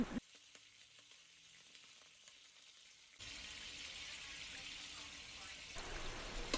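Food frying in a pan for a simple home dinner, a faint quiet stretch that gives way to a louder steady sizzle with crackling fat, close and continuous, no talk.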